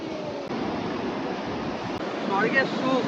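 Surf washing onto the beach at Puri, a steady broadband roar of breaking sea waves with wind noise on the microphone, continuous and fairly loud, with faint voices rising near the end.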